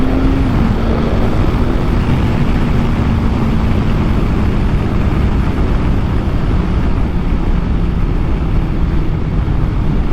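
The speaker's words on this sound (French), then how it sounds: "réchauffe un peu le moteur" Honda motorcycle engine warming up on a cold, frosty winter day in Brussels, a steady loud drone with a slowly falling pitch held throughout, with no voices.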